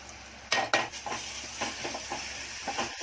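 Onions and spices frying in a pan for a Konkani guar bean and prawn dish, a soft steady sizzle broken by several scraping stirs of a spoon against the metal.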